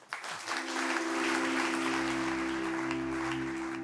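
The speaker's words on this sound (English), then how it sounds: "A round of applause." Audience applause at a corporate talk event on the future of the planet, a full, even round of clapping that swells quickly and holds steady over a sustained musical tone.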